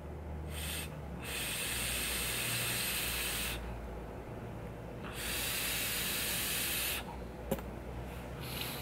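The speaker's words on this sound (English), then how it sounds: "As much as you can hear that airflow is as much as I feel that airflow." Steady airflow hiss from a DNV Scar RDTA dripper vape at 44.5 watts with the airflow wide open, drawn in several long pulls separated by short pauses, close and fairly soft.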